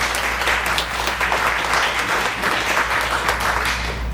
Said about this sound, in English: let's give them a round of applause just for wanting to do this